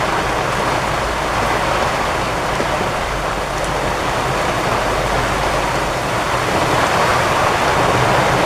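Steady, heavy monsoon rain pours down continuously near an outdoor cooking spot in Alibag, a dense unbroken hiss that fills the whole stretch with no voices.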